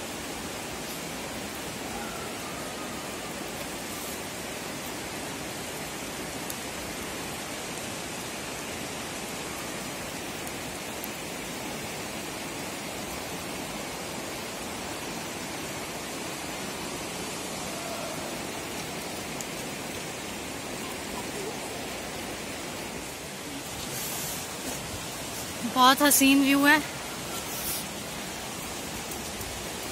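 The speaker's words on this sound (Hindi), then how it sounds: "ऊपर से पानी भी गिर रहा है।" Water falls from above inside Partnach Gorge in Germany, a steady rushing roar that fills the whole scene, with a brief burst of voices near the end.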